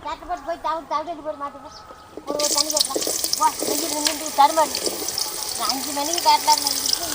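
Sliced bitter gourd frying in hot sesame oil in a pan, a steady bright sizzle rising suddenly and continuing loudly, with someone speaking over it throughout.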